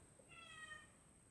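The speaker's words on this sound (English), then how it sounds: "Sorry if you can hear a cat meowing in the background." A house cat meows in the background, a single faint, drawn-out call heard alone in a quiet room.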